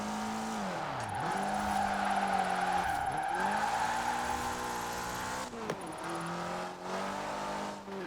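Lancia Delta Integrale rally car driven in Forza Horizon 4, its engine note droning steadily and rising through the gears with several brief dips at shifts, close and loud throughout with no talking.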